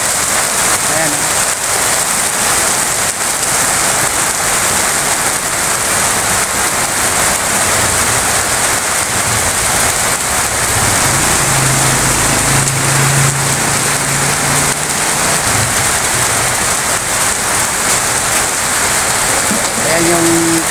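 Heavy rain pours down in Antipolo, a loud, steady hiss of drops that holds without a break, with a faint low hum underneath.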